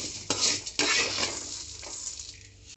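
Lentils sizzle and are stirred in an oily pan while making ivy gourd pachadi, with scraping spoon strokes over a soft, close frying hiss that fades toward the end.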